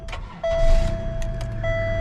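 A car engine runs after an exhaust leak has been sealed with a hardening bandage wrap. It makes a steady, close idle rumble with a thin constant whine over it and no hissing or ticking.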